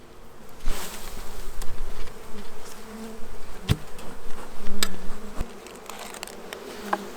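Steady, dense buzzing of many honeybees close by in an open hive, with a low droning hum and a few sharp clicks and knocks throughout.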